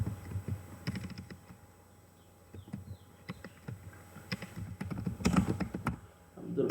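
Keys tapped on a computer keyboard while entering a Google search, irregular clusters of light clicks close by, pausing briefly in the middle before resuming.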